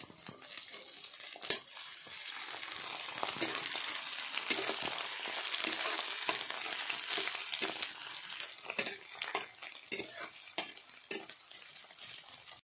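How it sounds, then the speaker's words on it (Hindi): Chilli, onion and garlic fry in hot oil for a homemade desi-style Maggi, giving a steady, close crackling sizzle with sharp pops scattered throughout and no talking. "मेरा तेल पूरी तरह से गरम हो चुका है, अब हम इसमें मिर्चा और प्याज लहसुन डालने जा रहे हैं।"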